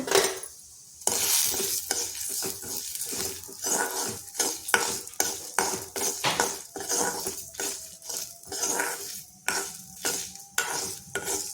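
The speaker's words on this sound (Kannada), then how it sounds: "ಜೀರಿಗೆ ಮೆಂತ್ಯ ಸಾಸಿವೆ ಎಲ್ಲನೂ ಹಾಕ್ಕೊಂಡು ಸ್ವಲ್ಪ ಹುರ್ಕೋಬೇಕು" Urad dal, cumin, fenugreek and mustard seeds dry-roasting in a pan, with repeated close scraping and clinking spoon strokes at an uneven rhythm and a light rustle of seeds, no talking.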